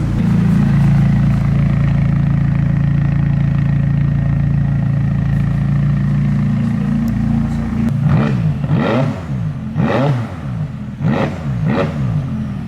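A McLaren 570S Spider fitted with an MSO titanium sports exhaust idles with a deep, loud, steady burble, then gets several sharp throttle blips that rise and fall in quick succession toward the end.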